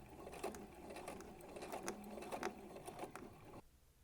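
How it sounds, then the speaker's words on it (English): A sewing machine running a long basting stitch on fabric for a medieval overdress, a fast steady mechanical chatter close by and quiet, stopping abruptly near the end, no talk. "just go ahead and do the largest stitch on your machine"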